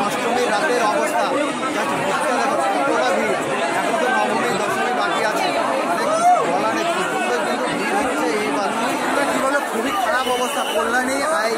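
A dense festival crowd packs the Kalyani railway overbridge on Durga Puja's Ashtami night, a steady loud babble of many voices and chatter all around, with no single sound standing out.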